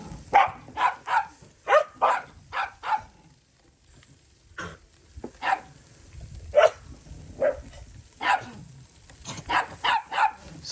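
Dog barking in bursts of quick, sharp barks and yips, fairly close, with short pauses between volleys, heard outdoors beside a Weber kettle grill.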